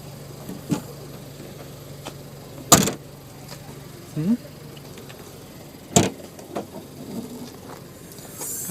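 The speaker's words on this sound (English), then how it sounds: "As soon as you close it, it just flaps all over the place." A loose car door on a Nissan Juke thumps as it is shut and flaps, giving two sharp, close knocks a few seconds apart with smaller rattles in between, over a low idle hum and faint voices.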